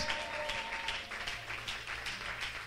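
An audience claps steadily in a large hall, a dense, continuous patter of many hands held at moderate loudness throughout, with no voices over it.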